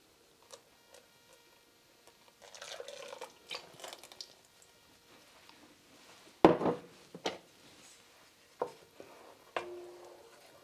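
Cream being stirred into a pot of hot soup with a spoon, giving quiet wet swishes and squelches, sparse soft drips, and a few louder clinks of the spoon against the pot.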